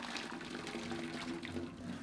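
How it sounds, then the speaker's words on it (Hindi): Hot water poured out of a pot of freshly boiled eggs in a home kitchen, a soft continuous splashing trickle, faint and close, with no talking. "अब मैं इसमें से गर्म पानी निकाल रही हूँ"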